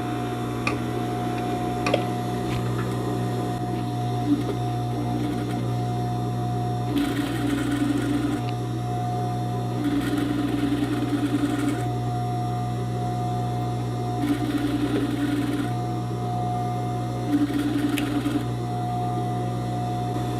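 A home sewing machine stitches the seam of a straight skirt with a ruffle, starting at the center front, in a steady mechanical whir. Several distinct bursts run over a constant background hum.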